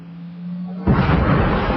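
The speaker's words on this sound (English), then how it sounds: "This is airburst artillery, shells designed to explode just above the ground, spraying deadly metal fragments over 200 metres." An airburst artillery shell bursts over the Siachen region. A low steady hum gives way to a sudden loud, broad blast and a sustained rumbling roar, with no voices.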